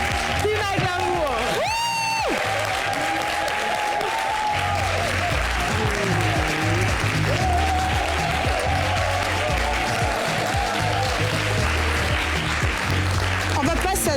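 Sustained audience applause fills a lively studio event, a dense steady wash of clapping with scattered whoops and cheers, and voices mixed in underneath throughout.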